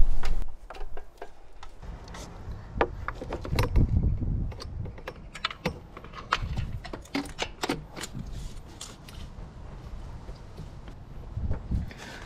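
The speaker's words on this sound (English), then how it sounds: "let's get down in there and let's pull those spark plugs out and take a look at them" A ratchet clicks in quick uneven bursts while spark plugs come out of a Ram 2500's 6.4L Hemi engine, with metallic taps and rattles of tools close by between the runs of clicking.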